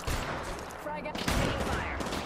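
Rapid gunfire from the Apex Legends video game rattles out in a dense, loud burst of overlapping shots, with a voice faintly present underneath.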